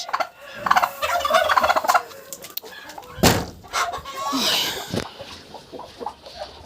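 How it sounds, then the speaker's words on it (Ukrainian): Broody bantam hen making low, repeated gobbling clucks at close range, with sharp scratchy rustles in between, and no talk over them. "Це ж е, квочка, насітка."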